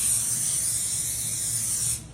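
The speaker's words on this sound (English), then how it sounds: "I'm gonna be doing a little bit of this non-stick butter spray" Non-stick butter spray hisses from a can onto a parchment-lined baking sheet in one steady, close burst of about two seconds that cuts off abruptly, with no voices.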